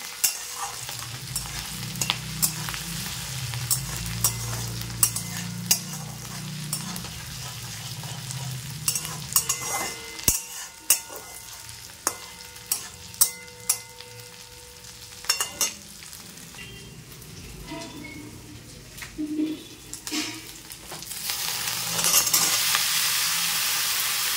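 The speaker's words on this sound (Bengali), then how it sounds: "এদিকে কপির তরকারিটা একটুখানি ভাজা ভাজা করে নিই" Cauliflower curry, parboiled and now being fried, sizzles steadily in a pan while a spoon scrapes and stirs with irregular clinks and taps; the frying is louder early on and grows hissier toward the end.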